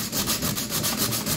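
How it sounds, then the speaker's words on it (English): Hand sanding with 150 grit sandpaper strips paint from a plastic motorcycle fairing on a 1999 Triumph Daytona, giving loud, close, rhythmic back-and-forth rasping strokes with no talking. "Apparently I'm using the world's worst sandpaper, but this is just 150 grit."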